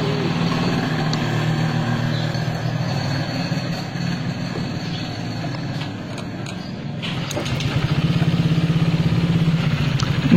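Motorcycle engine running steadily after being started, a close, loud idle rumble with a rhythmic throb that grows slightly stronger toward the end.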